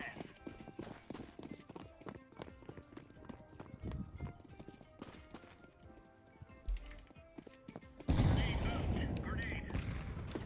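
Rapid gunfire and footsteps from the Counter-Strike 2 video game, with rattling bursts and impacts throughout that swell into a louder, denser barrage near the end.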